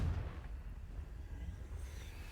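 A Confringo blasting spell explodes in the video game Hogwarts Legacy, producing a low, rumbling boom that swells at once and then fades steadily with no talk over it.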